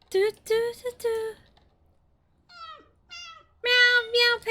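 A cat in The Sims 2 meows repeatedly in short, clear calls, several in quick succession, then a pause before rising, gliding meows and another burst of loud mewing.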